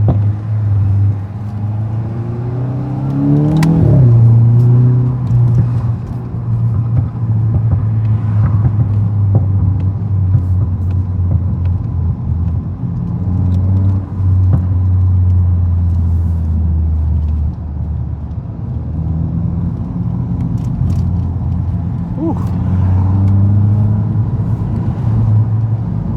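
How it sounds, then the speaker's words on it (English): Straight-piped 2024 Volkswagen MK8 GTI with muffler delete, a deep droning exhaust rumble with a few sharp revs rising and falling, heard from inside the car at close range. "I'm keeping my GTI straight piped, bro"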